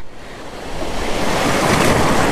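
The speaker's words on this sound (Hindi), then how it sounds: "आज जो है ना तूफान चल रहा है यहाँ पे" Stormy sea waves surge and crash with strong wind buffeting the microphone. The roar builds in loudness and stays as a dense, continuous wash of surf.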